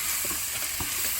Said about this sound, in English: I'm going to go ahead and add the onion.